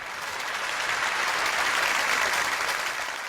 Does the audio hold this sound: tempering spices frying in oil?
no